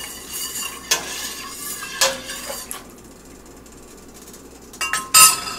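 Muscadine juice being stirred in a pot for wine, with a few metallic clinks and scrapes of a utensil against the pot over a low background hiss, ending in a louder clatter.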